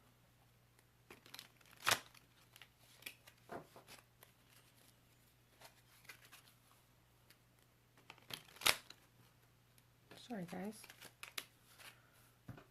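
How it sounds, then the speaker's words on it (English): A small square deck of oracle cards is shuffled by hand in short, soft riffling and rustling bursts, quiet and close, with a few louder card slaps and someone talking briefly. "This little deck is difficult for me to shuffle because it's square."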